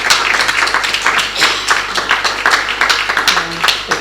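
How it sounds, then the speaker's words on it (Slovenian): Applause from an audience at an exhibition opening honouring a Slovenian caricaturist, a loud burst of clapping with scattered sharp claps running throughout. "dajte en majčken aplavz za našega"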